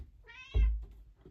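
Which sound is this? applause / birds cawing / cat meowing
cat meowing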